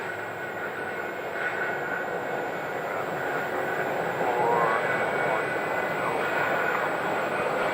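An American Airlines jet airliner arriving from Newark, New Jersey, gives a steady broad roar that swells slightly midway, with faint radio voices underneath.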